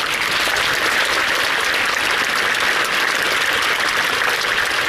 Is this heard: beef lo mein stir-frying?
no